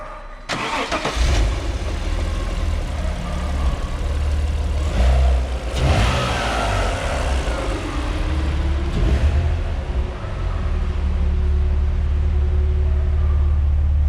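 Alfa Romeo 147 GTA engine cranks and fires, then settles into a deep idle broken by a few sharp revs that rise and fall, close and loud.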